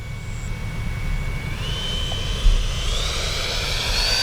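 An FMS 70mm F-18 radio-controlled jet flies past, its ducted-fan whine holding a steady high tone that rises in pitch as it speeds up and moves away, over a constant low rumble of wind and engine noise.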